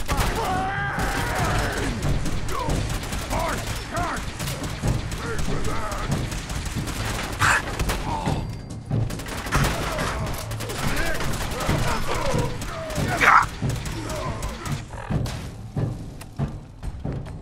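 Gunfire in the video game Fallout 4, repeated shots and bursts under steady talk and shouting throughout.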